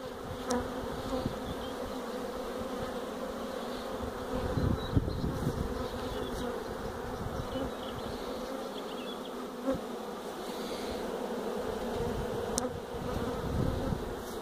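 Honeybees buzz densely around a hive during a swarm capture, a steady close drone that swells briefly now and then, with no talk.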